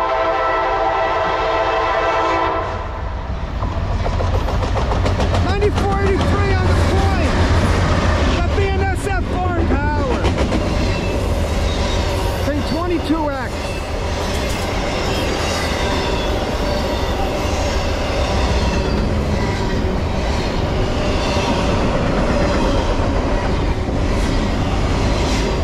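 A CSX freight manifest train passes close on a Conrail line, with loud continuous rumbling, squealing wheels and clanking railcars, a horn note near the start, and voices faintly underneath.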